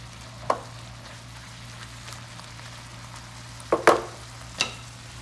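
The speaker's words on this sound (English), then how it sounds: "We got our cheese sauce right here cooking." Cheese sauce cooking in a pan, a soft low bubbling sizzle with a faint steady hum beneath and a few sharp pops and clicks scattered through.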